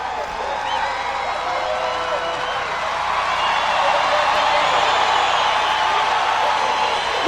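A large crowd at a 1992 drum corps show roars and claps steadily throughout, the cheering swelling louder toward the end, with faint voices mixed into the din.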